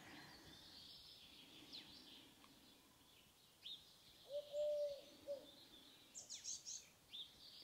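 Birds call and sing outdoors in a faint, quiet setting: scattered short chirps and tweets come and go, a slightly longer sustained whistle sounds near the middle, and a low hiss of ambient background sits beneath them.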